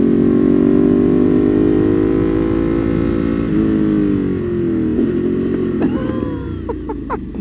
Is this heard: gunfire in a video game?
no